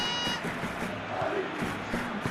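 Stadium crowd in the football game PES 2021, a broad steady roar of fans chanting and shouting from the stands, continuous and loud throughout.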